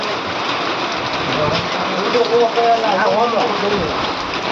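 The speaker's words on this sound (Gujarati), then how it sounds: "વરસાદ ફૂલ ચાલુ થઈ ગયો છે જો મિત્રો" Steady, dense rain pours down close by, a continuous broadband wash, with a voice speaking over it partway through.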